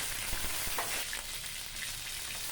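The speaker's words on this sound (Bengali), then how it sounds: "একটা একটা করে মাছ ছেড়ে মাছটাকে প্রথমে ভেজে নিতে হবে" Prawns fry in mustard oil in a pan, giving a soft, steady sizzle with a few faint clicks and scrapes of a spatula, fairly quiet and without voices.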